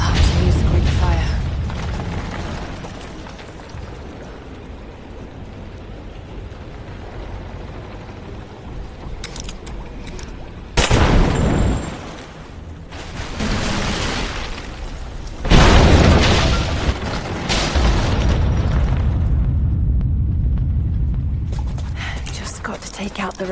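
A Greek fire vessel blows up in the Rise of the Tomb Raider video game. Two loud, close explosion bursts strike several seconds apart over rumbling ambient game noise, each followed by a lingering roar.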